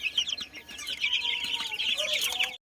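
Young chicks peep rapidly and hens cluck softly in a backyard poultry pen in the evening, a busy steady chatter of high chirps at moderate distance.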